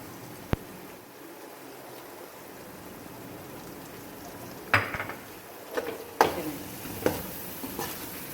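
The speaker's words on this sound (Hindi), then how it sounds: "अब मैं इसमें आलू डालूँगी जो मैंने हाफ बचा के रखे थे।" Potatoes added to a pan of spinach sizzle steadily, then a spoon scrapes and clatters against the pan in several distinct stirring knocks, fairly close.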